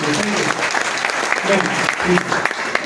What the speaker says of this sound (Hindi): बस एक बार जोरदार तालियां मैम।